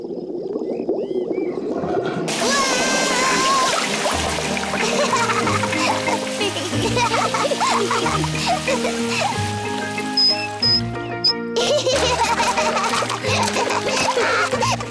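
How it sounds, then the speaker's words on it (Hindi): In a Peppa Pig cartoon, water from a garden hose pours into a paddling pool, a soft continuous splashing and hiss that runs under cheerful background music. "और मम्मी ने पानी शुरू कर दिया।"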